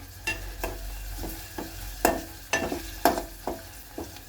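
A spoon stirs egg curry in a pan, scraping in steady, evenly spaced strokes close by, with a faint sizzle underneath and no talking.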